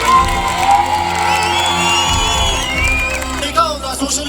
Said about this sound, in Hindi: तो ताली बजा अपने लिए